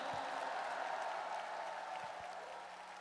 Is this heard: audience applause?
yes